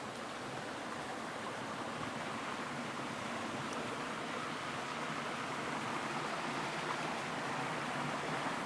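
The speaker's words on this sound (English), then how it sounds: "There's a little spring head right there where it's coming out of the ground and it's running down" Spring water runs down from a small spring head near a waterfall, a steady, even rush of flowing water heard alone, moderately loud and continuous.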